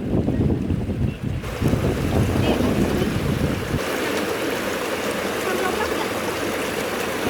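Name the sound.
flowing water of a sulfur river being crossed on foot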